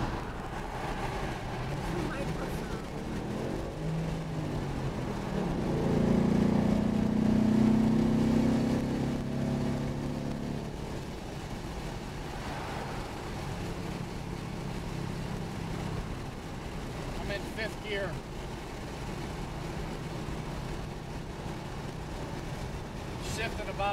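Engine of the Boss vehicle heard from inside the cabin, a steady droning hum that swells as it revs toward gear changes, with a person talking over it.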